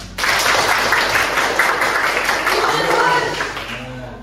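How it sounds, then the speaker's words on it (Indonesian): Classroom audience applause after a presentation, a dense burst of clapping that starts abruptly, holds steady and fades toward the end. "Terima kasih, tepuk tangan."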